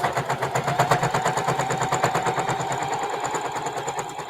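A sewing machine runs at a steady pace, stitching in the ditch through three layers of scrappy quilt fabric for a casserole pad. Its needle chatters in a fast, even rhythm with a low motor hum underneath.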